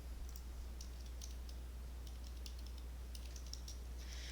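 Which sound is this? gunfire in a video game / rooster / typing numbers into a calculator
typing numbers into a calculator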